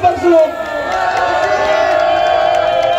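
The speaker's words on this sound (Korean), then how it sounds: "큰 박수로" A crowd at a patriotic political rally in Chuncheon, South Korea, cheers and claps loudly: a sustained wash of many voices shouting together over clapping, fairly close and continuous.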